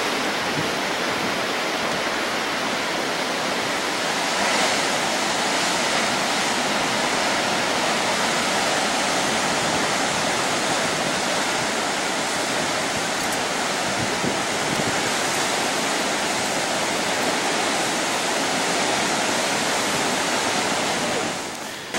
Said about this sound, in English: Still got the big waves though.